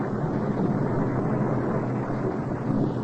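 Storm effect for a radio drama: a steady, loud roar of wind and sea noise, dense and unbroken throughout, with no voices over it.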